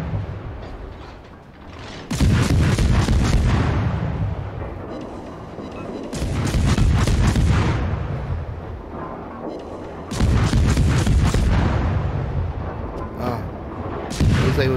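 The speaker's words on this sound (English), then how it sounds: "He was taken out by the torpedoes." Torpedo hits on a warship in the naval battle game World of Warships: three heavy, rumbling blasts, each booming loudly for several seconds and then fading under a continuous low roar.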